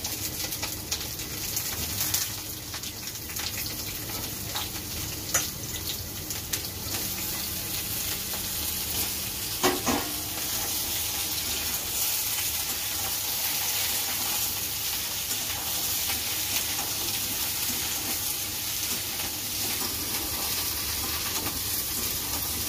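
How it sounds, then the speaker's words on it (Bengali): Potato and eggplant pieces frying in oil, a continuous close sizzle with occasional scrapes and stirs of a spatula across the pan, steady in loudness throughout with no talking. "তারপর আমি বেগুনটা দিয়ে নেড়ে দেবো"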